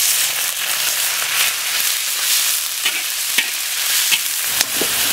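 Beef hitting hot oil with ginger strips in a wok gives a loud, continuous sizzle with scattered crackles and pops as it is stirred, no voices over it.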